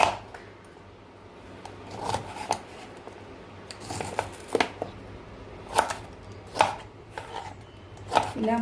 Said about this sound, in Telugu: ఇలా ముక్కలుగా తరుక్కోవాలి.